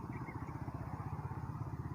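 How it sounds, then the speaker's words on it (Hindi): A motorcycle carrying riders runs along a village road with a steady, close, throbbing engine note, rhythmic low pulses repeating evenly without pause. "ये देखो मोटरसाइकिल चलाई होता है"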